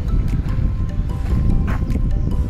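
Strong wind gusts buffet the microphone in an open manor park, a loud, uneven low rumble that rises and falls without a break.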